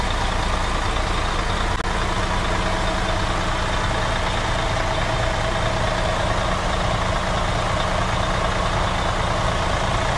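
A 2004 Mercedes-Benz Actros 6x6 truck sits idling, its diesel engine giving a steady, loud, unbroken rumble with a broad hum for the whole stretch and no voices.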